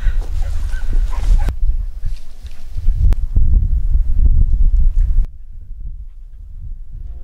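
Podenco hunting dogs on a rabbit hunt give loud, close, rapid barks and yips in uneven bursts, which ease off into quieter scattered yelps near the end.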